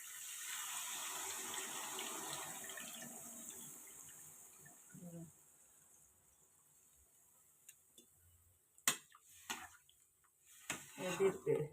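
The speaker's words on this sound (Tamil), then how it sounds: "இப்போ வந்து புளி தண்ணியை கரைச்சி ஊற்றிக்கோங்க." Dissolved tamarind water pours into a cooking pan of green tomato curry with a steady splashing gush for about five seconds. Quiet follows, broken by a few light clinks and knocks.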